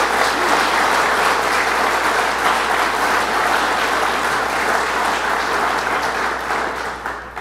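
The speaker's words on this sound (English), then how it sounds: "let's give her a round of applause and thank her" An audience at the opening of a rebuilt fire station gives a long round of steady, dense clapping, loud and even throughout before easing slightly at the end, with a faint low hum beneath.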